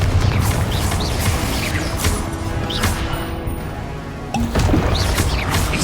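Confringo blasting spells in Hogwarts Legacy, several sharp explosive bursts at irregular intervals over a busy combat background, loud and close.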